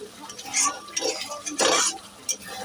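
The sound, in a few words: stirring chicken bharta in a pan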